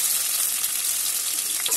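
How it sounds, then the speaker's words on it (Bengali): Onions and slit green chillies fry in mustard oil with a soft, steady sizzle, close but fairly quiet, with no voices. "তো কাঁচা লঙ্কা আর পেঁয়াজটা আমি এবার ভেজে নেব ভালো করে"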